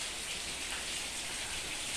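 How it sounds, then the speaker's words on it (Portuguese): Constant dense rain pours down, an even broadband hiss with no voices or breaks. "Só chuva. Só chuva, pessoal."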